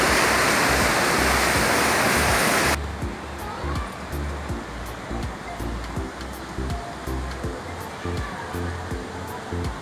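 Waves and rushing water in the wave pool at Andamanda, a large new water park in Phuket, roar loudly as a dense steady wash for nearly three seconds, then cut to a quieter background of softer splashing with faint rhythmic thumps.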